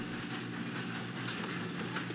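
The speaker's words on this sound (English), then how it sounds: "We have to stop this train." Train rolling along the tracks in Red Dead Redemption, a dense steady rumble with a low rhythmic clatter and broadband hiss held at constant loudness throughout, with no voices.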